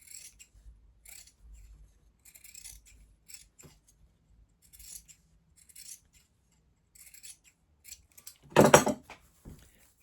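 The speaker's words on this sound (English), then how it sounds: "So you just want to gently cut around to remove the excess." Scissors snip through old T-shirt fabric in a string of short, crisp, close cuts, ending with one louder rasping snip, and no one talks.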